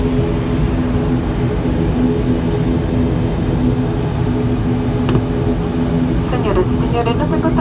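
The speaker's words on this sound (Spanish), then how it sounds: "Señoras y señores, nos encontramos próximos a despegar." Steady drone of an Easyfly ATR 42-600 turboprop cabin preparing for takeoff, a constant low engine hum filling the clip with a brief click near the end and faint cabin sounds; a cabin announcement voice speaks over it.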